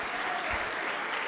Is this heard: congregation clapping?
yes